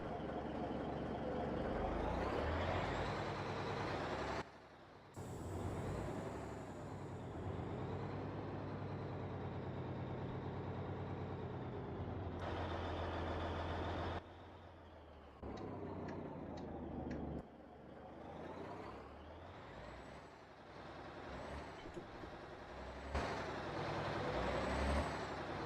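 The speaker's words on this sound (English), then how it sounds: "let's see what this truck sounds like" A heavy truck engine in the Euro Truck Simulator 2 video game, hauling 15 tons of straw on a South American map, rumbles steadily and loudly, broken by several sharp hissing air-brake releases and gear-change gaps.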